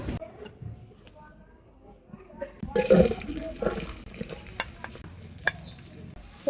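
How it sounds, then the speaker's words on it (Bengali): Garlic paste fries in a pot on a clay stove, a soft sizzle with scraping stirs that grows busier midway, fairly quiet and close. "রসুন পেস্টটা আগে একটু ভেজে নিচ্ছি"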